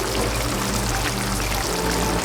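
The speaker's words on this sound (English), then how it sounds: "Bubbling down with a nice gravy." Oxtail gravy bubbles in a pot with a dense, continuous simmering rush and low burbling pops, steady and close throughout.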